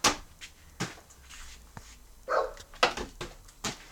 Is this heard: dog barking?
yes